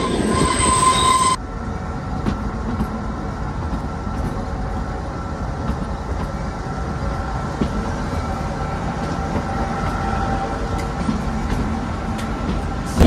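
The Shivalik Deluxe Express toy train on the Kalka–Shimla line is heard from on board as it runs, with a steady loud rumble, wheel squeal and rhythmic clatter throughout.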